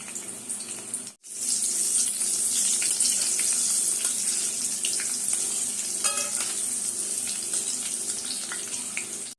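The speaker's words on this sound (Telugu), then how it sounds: "మిర్చి కూడా వేసి వేయించుకుందాం." Green chillies fry in hot oil for a prawn pickle, giving a steady, close, dense sizzle and crackle that holds loud after a brief gap near the start, with a few scraping stirs.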